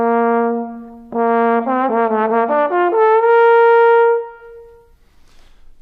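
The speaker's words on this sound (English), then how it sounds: "the trombone player moves the slide in and out" A brassy trombone tone bends and slides smoothly between pitches, with a break and then a series of stepped glides ending on a held note that fades.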